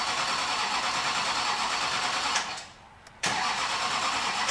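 A 6.6 Duramax diesel swapped into a Jeep Wrangler cranks with a steady mechanical churn that cuts out briefly near the end, then resumes at full loudness, close and without talk.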